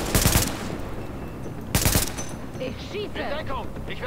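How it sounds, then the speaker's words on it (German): Gunfire from a window in Tom Clancy's The Division, two loud sharp bursts of rapid shots separated by a pause, with people talking over the game audio in between. "Ulpa schießt da rechts aus dem Fenster auf mich. Ach, Sniper, ja."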